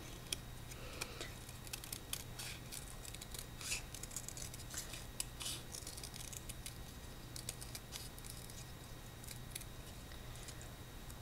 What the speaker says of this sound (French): Je coupe de manière à former une spirale.